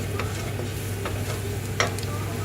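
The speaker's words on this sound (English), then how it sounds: "Just give that a good stir." Biryani masala being stirred into vegetables in a pot for a one-pot vegetable biryani, heard as soft scraping strokes at a steady pace over a low, constant sizzle, close and fairly quiet.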